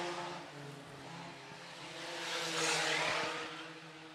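IMCA sport compact race cars run the final lap on the Phillips County Raceway oval, buzzing engines droning together and swelling louder as the pack sweeps nearer, then easing slightly.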